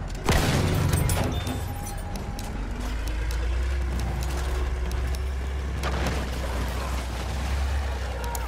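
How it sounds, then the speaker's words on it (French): A heavy armored vehicle engine rumbles low and continuous in a Battlefield 1 match, with distant gunfire and explosions around it and no talk. "C'est un véhicule blindé ennemi."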